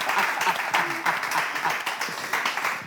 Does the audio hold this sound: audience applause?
yes